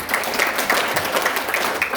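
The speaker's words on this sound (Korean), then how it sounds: "우리 김승 목사님을 위해서 또 다시 한번 박수 한번 부탁드리도록 하겠습니다" Church conference audience applauding their pastor, a full and continuous clapping from a crowd indoors, steady and loud across the whole stretch.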